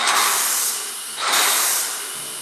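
A paint sprayer lays a first coat of flat white drywall sealer primer, giving a steady, loud airy hiss that dips briefly midway and then surges again.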